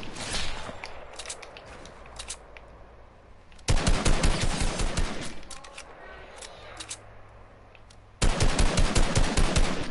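Assault rifle fire in Fortnite comes in rapid automatic bursts, loud and close, with sharp cracks repeating quickly, a quieter stretch of scattered shots and movement between the heavier volleys.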